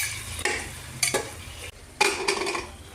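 A spoon scrapes and stirs mutton sizzling in oil in a metal pressure-cooker pot, a few distinct clanks and scrapes over a steady low sizzle.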